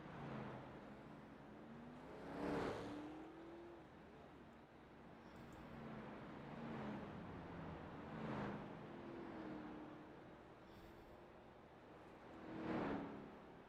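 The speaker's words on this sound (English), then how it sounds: "Cars coming out right next to the cameras." 1987 NASCAR Cup cars at Talladega Superspeedway passing out near the cameras, with several engine roars swelling and fading one after another over a low steady rumble, fairly faint and distant.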